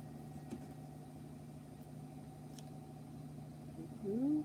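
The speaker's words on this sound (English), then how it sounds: "If you hear the noise in the background, that's my washing machine." A washing machine runs steadily in the background with a continuous low mechanical hum, joined by a brief rising voice near the end.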